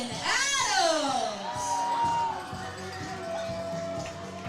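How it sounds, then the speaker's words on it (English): A softball semi-final crowd roars and whoops, stirred up by the public address system. A swooping, shrill sound rises early, and a broad cheer swells and then fades into ongoing crowd noise and scattered voices. "PA's doing a great job of getting this crowd riled up."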